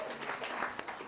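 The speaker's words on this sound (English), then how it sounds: "A round of applause." Brief, fairly quiet burst of applause from a small audience at a startup weekend event, soft scattered clapping that fades quickly.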